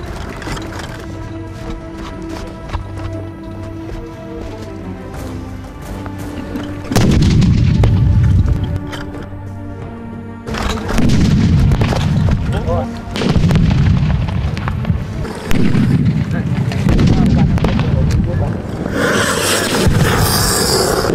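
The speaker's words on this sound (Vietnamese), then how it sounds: "Những cái tiếng súng nổ ngay ở bên tai, những cái khẩu pháo," Gunfire and artillery cannon shots during a military training exercise, loud repeated booms and cracking blasts that start suddenly and keep coming in dense bursts, with voices heard at times between them.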